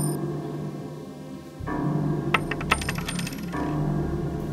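Metal coins drop and clink onto a hard surface in a few bright, scattered rings, used as a sound effect in a horror story, set against a low, eerie ambient drone.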